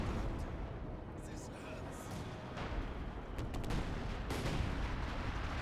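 An artillery gun barrage in the World War II strategy game Company of Heroes 2 rumbles on as dense, continuous booming and crackling, with sharper impacts standing out near the end over a constant loud battle din.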